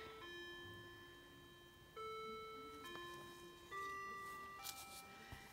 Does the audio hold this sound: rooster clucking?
no